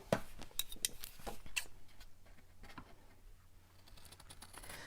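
Scissors cut straight across a paper card for a magic card craft, giving a quick run of soft, close snips and crisp paper rustles that fade into quiet handling.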